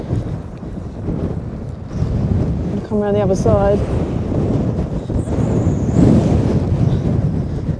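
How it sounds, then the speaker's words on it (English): Strong gusty wind roars across the microphone during sea fishing on an exposed shore, loud and continuous, while someone speaks over it. "It's pretty windy today."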